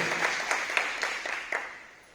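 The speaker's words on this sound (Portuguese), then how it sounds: "Você pode aplaudir o Senhor com alegria?" A church congregation at a soul-healing seminar applauds, a soft wash of clapping with a few sharper claps standing out, moderately faint and fading toward the end.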